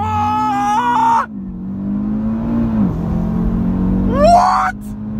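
An Audi RS3 with a 555 hp engine launches hard under launch control, its engine climbing in pitch through a gear, dropping to a deep steady rumble, then revving sharply upward again, loud and close from inside the car.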